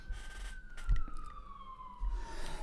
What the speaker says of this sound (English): the ambulance literally just sits there blaring its sirens